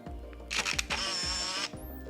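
An Olympus Infinity compact film camera fires with a quick click and a whirring motorized wind lasting about a second, close up over a low background hum.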